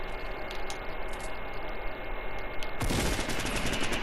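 Shotgun fire in a video game, a dense burst of loud noisy blasts that intensifies toward the end, with no talk over it.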